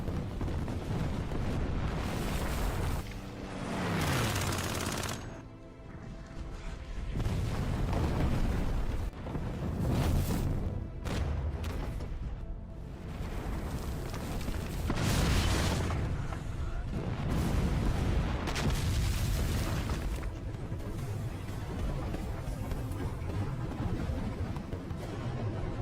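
Repeated heavy booms of German artillery fire and explosions roll out one after another in a World War II battle scene, loud and rumbling, with crackling debris and a constant dense battle din between blasts.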